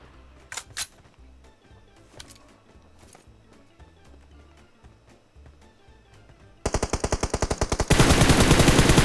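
Rapid automatic gunfire in a battle-royale video game, bursts of shots over a busy game soundtrack, building to a loud, dense, sustained volley toward the end.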